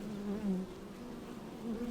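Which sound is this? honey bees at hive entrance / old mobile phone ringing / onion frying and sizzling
honey bees at hive entrance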